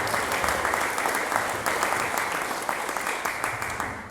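Sustained audience applause fills a piano showcase hall at intermission, a dense, steady wash of many hands clapping at even loudness, with no talk over it.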